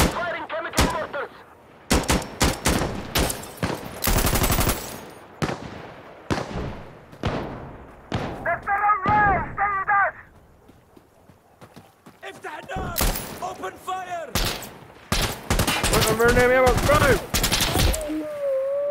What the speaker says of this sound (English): Firing chemical mortars.